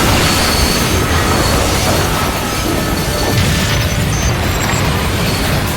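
A loud, sustained flashbang-like blast in Final Fantasy XIV fills the mix with a dense, roaring wash of noise, the sound staying heavy and unbroken throughout.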